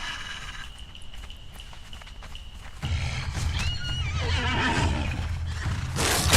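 Horse in the Conan Exiles video game gives a loud neigh and whinny that rises and wavers near the end, after a quieter stretch with hoof clops and game ambience.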